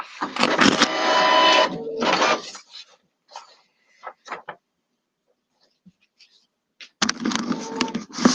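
Home printer runs two loud mechanical bursts of whirring and clattering as it feeds and prints pages, with a near-silent gap between them broken by a few scattered clicks.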